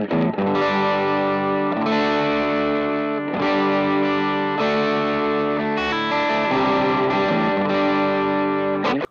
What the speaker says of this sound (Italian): Premendo il pedale seleziono un overdrive trasparente adatto per suoni crunch.